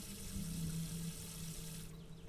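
Water runs steadily from a tap during handwashing in the game Caretaker, a constant close rushing stream that stops abruptly near the end.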